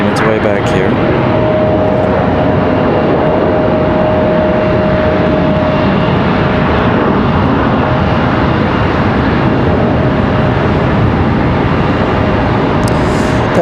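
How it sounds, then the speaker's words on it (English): A United Embraer E-175 jet taxiing at Charlotte Douglas airport produces a loud, steady engine roar with a sustained whine, continuous and close throughout. "And that United E-175 making its way back here."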